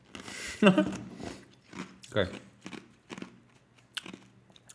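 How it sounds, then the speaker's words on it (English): Someone chews ice close to the mic, giving several sharp crunches and bites spaced through the moment, with a brief spoken word near the start. "I know you don't like it when I chew my ice."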